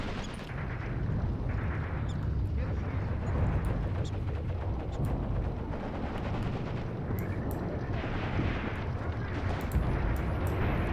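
Distant booms and rumbling blasts from the video game Graviteam Tactics: Mius Front, including a grenade explosion, roll over a continuous battlefield din of scattered gunfire.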